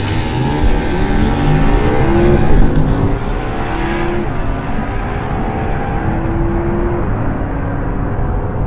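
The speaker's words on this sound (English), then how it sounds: "0 to 150 to 0. Audi R8 V10 versus Ducati Diavel." An Audi R8 V10 Plus and a Ducati Diavel launch in a 0-150-0 acceleration race. Loud engine roar climbs in pitch through several gear changes, then thins out and fades as the vehicles pull away.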